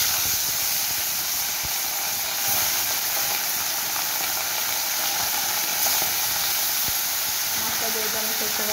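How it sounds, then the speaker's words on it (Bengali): Bhola fish fry in hot oil in a wok (kadai), a loud, continuous sizzle and hiss that holds steady throughout, close up with no voices. "এবারে আমি মাছগুলোকে ভেজে নেব।"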